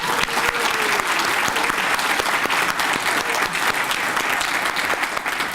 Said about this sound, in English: that is really deserving of a round of applause